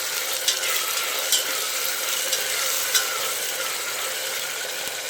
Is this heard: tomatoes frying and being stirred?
yes